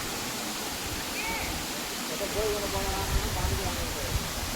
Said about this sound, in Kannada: ನೋಡಿ ನೀರು ಯಾವ ರೀತಿ ಹರ್ಕೊಂಡು ಹೋಗ್ತಾ ಇದೆ ಕೆಳಗಡೆ.